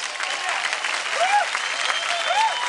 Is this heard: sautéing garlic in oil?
no